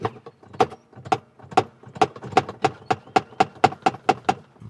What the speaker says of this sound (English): That's the pedal smacking the stop.